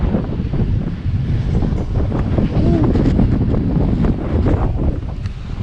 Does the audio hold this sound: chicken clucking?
no